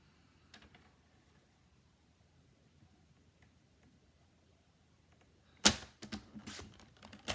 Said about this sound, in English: Putting it back in the paper trimmer.